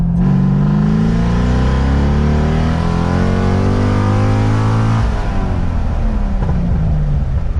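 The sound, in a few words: C6 Corvette engine revving during a tuning pull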